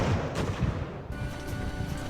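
Cannon and artillery fire from an Ultimate Admiral: Age of Sail battle rumble as a dense, continuous barrage of low booms, loud and steady with no pause.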